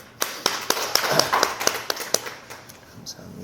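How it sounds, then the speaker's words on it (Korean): Applause in a church service, hands clapping in praise to God, a series of sharp, evenly spaced claps from a small group, moderately close, with faint voices underneath. "하나님께 영광의 박수 올려드리겠습니다."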